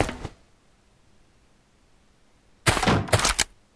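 Gunfire in the survival game Last Day Rules Survival: one brief burst of shots, a quiet stretch, then a rapid cluster of loud close shots near the end.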